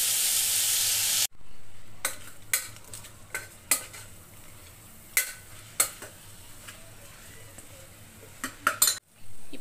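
Coriander, mint and chili paste sizzles steadily in a hot pan, with a brief quiet gap early on, then repeated scrapes and clinks of a spoon stirring against the metal.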